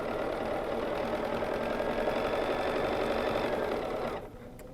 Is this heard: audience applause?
no